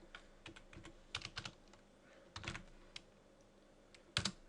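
Quiet, irregular keystrokes on a computer keyboard during a NetApp storage system session, arriving in short bursts of clicks with pauses between them and a sharper cluster near the end.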